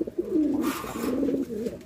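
Pigeons coo in a loft where birds sit on eggs, giving continuous soft, throaty rolling calls up close with no talk.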